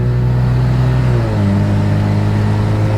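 Car with a ZF 8HP automatic transmission driving, a loud steady engine drone with shifting harmonic tones as it downshifts on its own, heard from inside the cabin.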